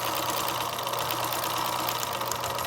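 A sewing machine runs steadily as it stitches a seam along the fabric edge, a continuous mid-level mechanical hum with a rapid even needle rhythm and no pauses, close by and alone.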